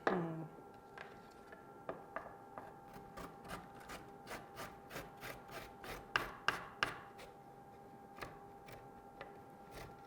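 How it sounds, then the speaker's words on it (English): Peeled ginger root is rubbed against a grater in steady, evenly spaced scraping strokes, close and fairly quiet against a faint background hum. "Now that we got all that grated"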